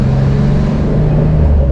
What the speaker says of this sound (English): I can actually hear the engine